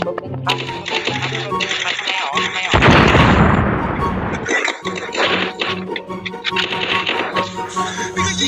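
Gunfire in the video game Free Fire, loud rapid bursts of shots with a heavy blast near the middle, mixed with game sounds.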